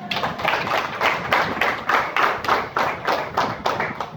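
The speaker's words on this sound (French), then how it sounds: "ça mérite des applaudissements." Applause from an audience, a steady run of many hands clapping in pulsing waves, fairly close and without talk over it.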